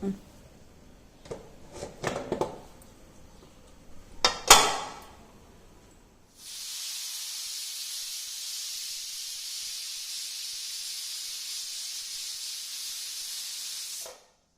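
A few clattering kitchen knocks, then a steady loud hiss of steam escaping a pressure cooker for several seconds before cutting off abruptly.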